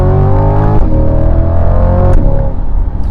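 A Chevrolet C8 3LT Corvette's engine drones loudly and steadily from inside the cabin while driving, a deep continuous rumble with a slight shift in pitch partway through.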